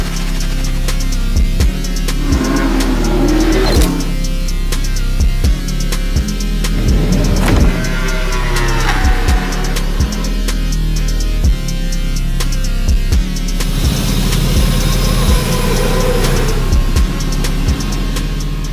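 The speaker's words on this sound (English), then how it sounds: "So now we know the engine runs fine." A rebuilt, previously crashed Yamaha R1 sport motorcycle engine runs up close and loud, revving repeatedly with rising and falling whines between sharp mechanical clacks, and no voices.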